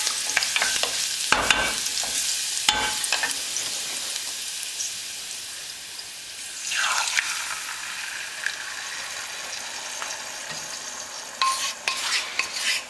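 Garlic for a tomato pasta sizzles in a hot pan while being stirred, with steady frying crackle and scraping spoon strokes throughout, a few louder bursts near the end.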